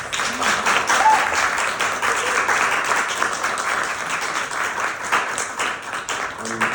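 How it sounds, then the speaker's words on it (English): Sustained audience applause at the close of a talk on women and starvation in Gaza, a dense steady patter of many hands, fairly loud throughout with a faint voice briefly underneath. "A big applause."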